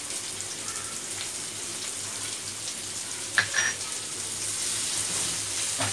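Cumin seeds sizzling in hot oil with curry leaves and chilli, a steady hiss of frying oil with a couple of sharp clinks near the middle, no voices.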